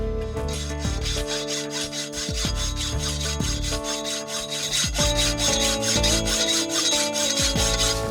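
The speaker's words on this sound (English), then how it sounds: "Just giving this pole a light sanding before I paint it." A garden pole being lightly sanded before painting, with steady back-and-forth rasping strokes. The rubbing is continuous and close over background noise.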